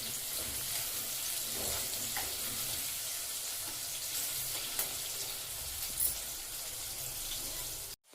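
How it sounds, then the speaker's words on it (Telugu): Potato pieces fry in a pan for aloo rice, producing a steady close hiss and sizzle that runs unbroken, with a few faint scrapes, before cutting off abruptly at the end. "ఈ ముక్క మిత్తపడేదాకా ఫ్రై చేయాలి"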